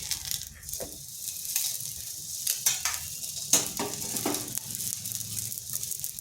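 An egg mughlai paratha sizzles in hot oil in a pan as it is flipped, soft steady frying crackle punctuated by several brief scraping and clattering knocks of the spatula, close and fairly quiet.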